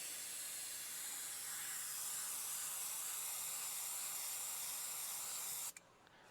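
GSI Creos Mr Hobby Procon Boy PS-266 0.5 mm airbrush spraying paint, a steady, close, bright hiss held for several seconds before it abruptly cuts off.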